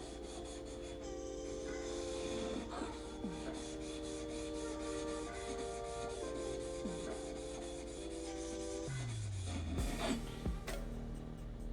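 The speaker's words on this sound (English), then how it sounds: "I'm just going to take it and run it on my stone a little bit" An electric power planer blade is rubbed back and forth on a sharpening stone to remove a burr, giving a continuous steady abrasive scraping close by, with a faint tonal hum underneath and a brief knock near the end.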